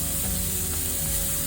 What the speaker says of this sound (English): Cook the meat. Pork meat. Pork.